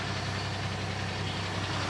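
A big truck rumbles behind a camper van parked at a roadside campsite in the morning, giving a steady, moderately loud low engine hum with no break.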